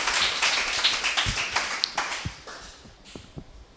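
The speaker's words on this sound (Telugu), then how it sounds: "చప్పట్లు కొట్టండి, గట్టిగా గట్టి కొట్టండి." A church congregation at Sunday worship claps hands loudly, sharp irregular claps and taps ringing out over a busy room with broadband noise, some claps standing out close and strong.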